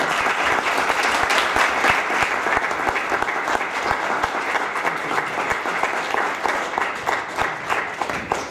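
An audience at a centennial symposium opening applauds Deputy Mayor McKinnon, sustained dense clapping from a crowd holding steady and loud throughout, with no voices rising above it.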